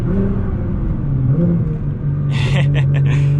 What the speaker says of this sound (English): If I give it gas right now, downshifted,